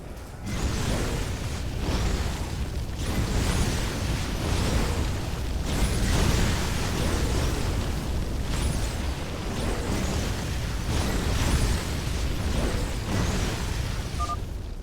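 Napalm explosions in the StarCraft II video game: a dense, continuous roar of fiery blasts and whooshing bursts layered together, loud and unbroken, with no speech.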